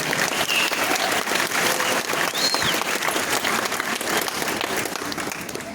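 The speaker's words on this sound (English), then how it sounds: "yes, you can clap" A graduation ceremony audience at St. Kateri claps steadily in a dense, continuous patter of many hands. The applause fades slightly toward the end, with no voices over it.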